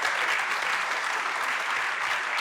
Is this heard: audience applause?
yes